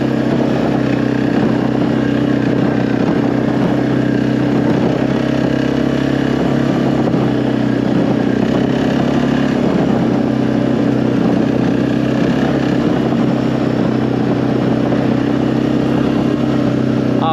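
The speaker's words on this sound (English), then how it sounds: "Suzuki motors sound so much better than any other motor" A Suzuki KingQuad ATV engine runs steadily and loudly at close range, a constant low mechanical drone with a faint clatter and no change in pitch throughout.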